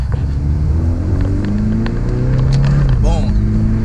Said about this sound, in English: Ooh, that turbo sound good.